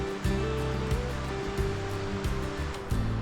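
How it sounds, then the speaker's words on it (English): Crystal-clear mountain spring water cascading off a hillside beside a creek along the Idaho Centennial Trail, a steady rushing wash with no talk over it. "And then you got nice little cascading action up there."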